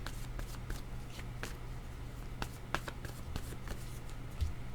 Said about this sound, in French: Je vais demander une autre carte.